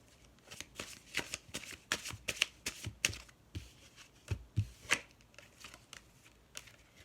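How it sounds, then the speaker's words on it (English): Tarot cards being shuffled by hand during a card reading, with a fast run of crisp riffling flutters and slaps spread across several seconds, close and clear, with no talking. "Let's pull one more card off tarot."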